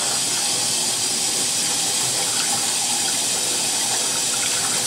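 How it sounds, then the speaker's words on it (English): Clear water runs steadily through the brass boiler of a Cremina espresso machine as it is rinsed, a loud, continuous hissing gush with no breaks or talk. "rinse it with some clear water."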